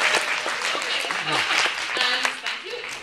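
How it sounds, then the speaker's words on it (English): Audience clapping at a Pecha Kucha presentation event, a steady dense patter of many hands filling the room throughout, with a few voices talking and calling out over it. "will you please start clapping so the presenters talk?"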